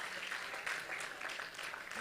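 A church congregation claps together in a dense, continuous wash of applause, moderately distant and filling the room for the whole stretch.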